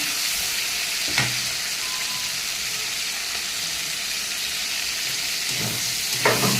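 Prawns frying lightly in a pan, a steady close hiss of hot oil with a few brief stirring knocks near the start and end.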